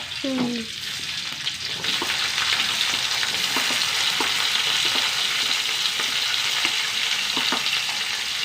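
Sliced onion and green chillies sauté in hot oil with a loud, continuous close sizzle, punctuated by regular light scrapes and taps of a spatula stirring the pan.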